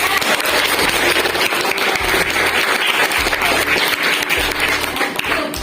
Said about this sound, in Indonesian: kita beri aplaus untuk kelompok A